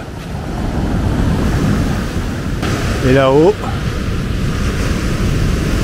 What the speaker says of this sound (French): on entendait bien les vagues, hein? On les entend bien. Sur les rochers.